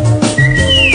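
Whistled melody from an Italian song, a bright clear tone that holds a long note and then slides gently downward, heard over the song's instrumental backing.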